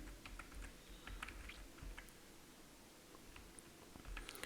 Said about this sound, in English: as we are now typing the grade